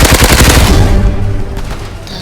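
Loud, rapid video game gunfire in a dense burst that fades into scattered shots and echoing rumble.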